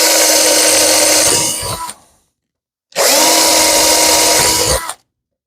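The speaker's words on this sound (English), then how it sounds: "So I take my drill, and I just drill holes in so I can get my bit through." A power drill whirs loudly into wood in two bursts of about two seconds each, separated by a short pause, drilling holes to pass a scroll saw blade through.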